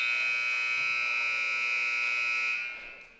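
Basketball game buzzer at a senior men's game, one loud sustained electronic tone held for about two and a half seconds before cutting off and fading into the gym's quiet.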